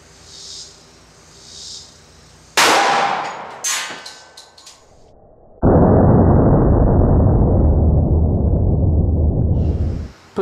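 Single sharp gunshot from a 10mm Glock 20 pistol firing Hornady XTP 180 gr ammunition, loud and close with a brief echo tail, followed by a few clicks and a long broadband rushing noise.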